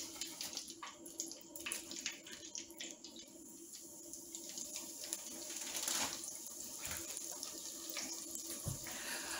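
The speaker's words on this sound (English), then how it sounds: "I'm going to go ahead and get the rest of this fish over into the hot grease" Fish fries in hot grease in a pan for fish and chips, a continuous crackling, hissing sizzle with irregular pops and spits, fairly quiet and close.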